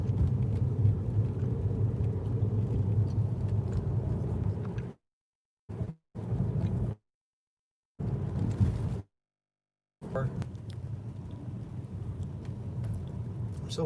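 Steady road traffic rumble along the Las Vegas Strip, a dense continuous wash of car engines and tires, close and fairly loud, cut by several abrupt silent gaps.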